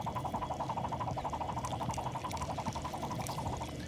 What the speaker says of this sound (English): This is a magnet coated with plastic. And when it's on this special table, it spins.